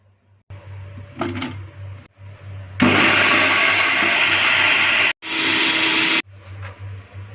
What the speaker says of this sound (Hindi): इन प्याज को चॉपर में डाल के ग्राइंड कर लेंगे।